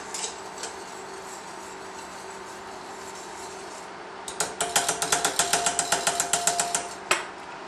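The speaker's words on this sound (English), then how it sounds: "Let that whisk nicely together." A mixture being whisked in a pan, a quiet wash of background then a burst of rapid rhythmic metallic clicks as the whisk strikes the pan, ending with one sharper knock.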